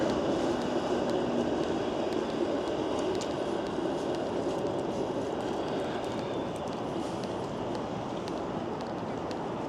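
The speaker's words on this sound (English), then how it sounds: "There's the 509 streetcar." A Toronto 509 streetcar rolls past on a city street, a continuous rumbling rail noise with faint wheel clicks heard from close by, steady throughout with no voices.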